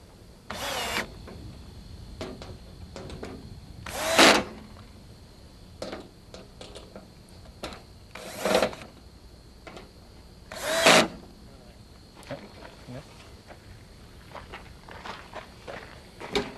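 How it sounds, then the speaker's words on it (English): A power drill drives screws into the rails of an above-ground round pool in four loud, separate bursts of a few seconds each, with quieter handling noises between them and no speech. "tighten the screws down firmly"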